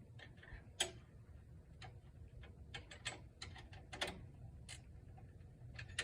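Ratchet wrench clicking as it runs down a bolt during a Pontiac Solstice battery replacement, a series of faint, irregular ticks spread over several seconds against a low background hum.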